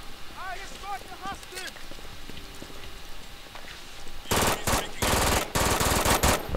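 Submachine gun fire in the video game Brink, a few faint chirps and clicks at first, then loud clustered bursts of rapid shots in the final seconds, with players talking in the background.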